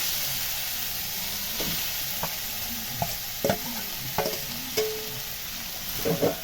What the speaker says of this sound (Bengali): এবার এর মধ্যে আমি দিয়ে দিচ্ছি ভেজে রাখা আলুগুলো।